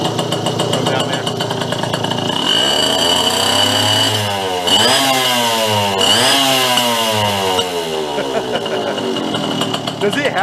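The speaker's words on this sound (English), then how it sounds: "Chain's jumping all over the place, but let's go rev it up." Small vintage mini bike engine, worn and with a loose, jumping chain, revs up loudly from a steady buzz into rising and falling throttle sweeps, close by and continuous throughout.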